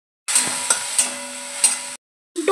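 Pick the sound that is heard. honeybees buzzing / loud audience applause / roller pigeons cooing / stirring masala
stirring masala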